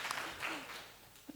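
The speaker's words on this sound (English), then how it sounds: "please, applause" Brief burst of audience applause at a panel discussion, scattered clapping that fades over about a second, with a faint voice at the end.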